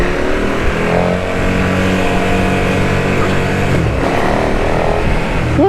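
A KTM Superduke 1290 R motorcycle engine, restricted to 5000 rpm after an error message, running loud and close with a steady held drone and slight rises in revs.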